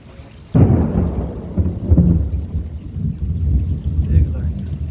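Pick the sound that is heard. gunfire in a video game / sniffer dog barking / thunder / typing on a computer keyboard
thunder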